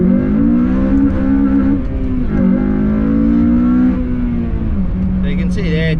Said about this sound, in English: do a U-turn, but give it quite a bit of gas in first gear as we turn around